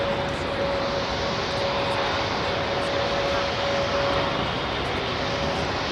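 An aircraft at London Heathrow Airport gives a loud, steady roar of engine and broadband rushing noise with a faint constant whine, continuous throughout with no talking.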